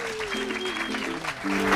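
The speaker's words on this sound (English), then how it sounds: "How about a round of applause for the amazing Cat Matthews?" Audience applause at a Kona breakfast gathering honoring triathlete Kat Matthews, steady crowd clapping building louder toward the end, with music or a sustained tonal voice line running over it.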